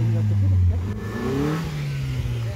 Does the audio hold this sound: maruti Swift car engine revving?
yes